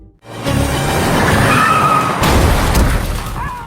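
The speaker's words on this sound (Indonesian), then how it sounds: "Mobil Jiyoung akhirnya tertabrak keras hingga oleng dan rusak" Car in a Korean action film skids and crashes, a loud close burst of tire screech and engine roar with a heavy impact thud midway, sustained throughout.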